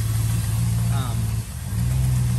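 A Chevrolet Silverado engine with a misfire runs steadily at close range, its low idle hum dipping briefly about halfway through, while someone talks over it.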